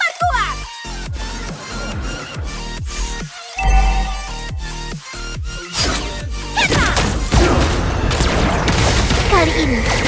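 Gunfire in an action video game rattles in rapid bursts and heavy impacts, with crashes and booms layered over a dense, constant game soundscape and no pause between shots.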